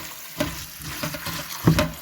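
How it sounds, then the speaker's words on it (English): Rice flakes (poha) being washed in water for a Mumbai-style Kanda Poha breakfast, with two brief splashy swishes against a low wet rustle, close and without talk. "now I'm going to wash my rice flakes and add them to this mixture"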